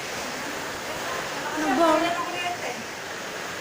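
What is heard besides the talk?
water pouring in during heavy rain storm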